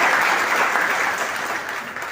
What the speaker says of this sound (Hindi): इनके लिए तालियां बजा